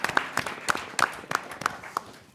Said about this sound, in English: Give him a round of applause from the audience.